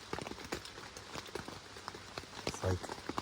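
Rain patters on a tent pitched in the woods, a dense irregular pattering of drops on the fabric walls, soft and close with scattered louder taps.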